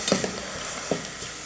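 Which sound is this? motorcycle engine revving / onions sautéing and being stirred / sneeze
onions sautéing and being stirred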